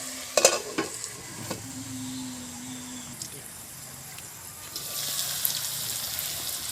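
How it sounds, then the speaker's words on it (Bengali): Bitter gourd (karela) being stirred as it fries with shrimp in a pan: a few loud spatula knocks at first, then steady sizzling that grows brighter and hissier toward the end, close by, no speech. "এখন ঢাকনা খুলে করলাটা আমি আবার নাড়াচাড়া করে দেব।"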